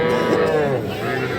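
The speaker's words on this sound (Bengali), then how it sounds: "এখানে কিন্তু একটা ক্রোধ জাতের ষাঁড় বাছুর দেখতেছি" A young bull calf of a local breed lows at a busy cattle market, one drawn-out moo close to the recorder over a dense background of crowd murmur.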